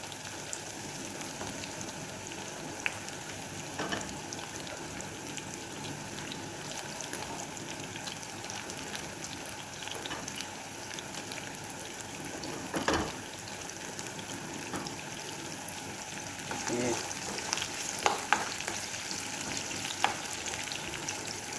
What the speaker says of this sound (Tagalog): ito yung garlic guys ha. Siyempre gisa lang to siya guys